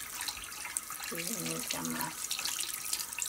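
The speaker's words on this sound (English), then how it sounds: "let's wash it with warm water first" Warm water runs steadily from a tap for washing during a skincare routine, a continuous close hiss with a brief spoken phrase over it midway.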